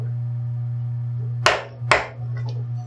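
A screwdriver knocks cold-mounted metallographic samples out of their molds with two sharp, close knocks about half a second apart, followed by a faint rattle over a steady background hum.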